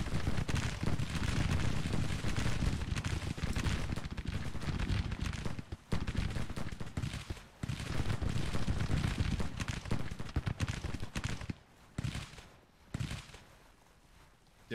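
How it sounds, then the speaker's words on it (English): Infantry volleys in Grand Tactician: The Civil War, a dense, continuous rumble of massed musket fire with irregular bursts and brief lulls near the end, loud and up close with no talk. "Once again, firing into the enemy."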